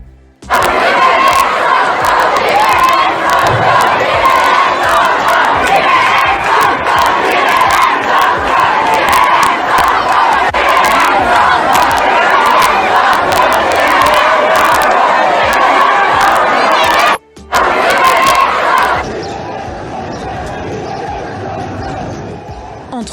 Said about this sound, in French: Entre les cris des manifestants